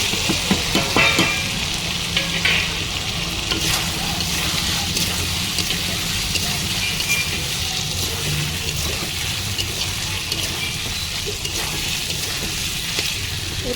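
Spice paste fries with pieces of fried papaya in a pan, a loud, dense, rain-like sizzle running continuously, with stirring at the start and no talk.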